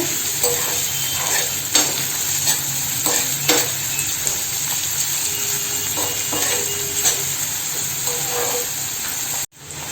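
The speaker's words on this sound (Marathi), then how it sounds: "ओली मिरची आणि कांदा टाकून घेऊया। तो ना थोडासा आपण तेलावरती परतून घेऊया।" Onion and green chili are sautéed in oil for a traditional Malvani drumstick-leaf dish, a close, continuous hissing sizzle broken by irregular scrapes and taps of stirring until an abrupt stop.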